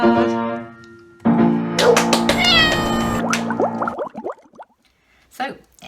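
A person imitating a cat's meow in a group singing session, giving a couple of drawn-out, pitched meows up close, followed by scattered quieter vocal sounds.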